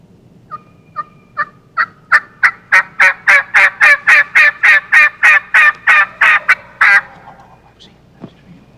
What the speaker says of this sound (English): they heard turkeys gobbling at daybreak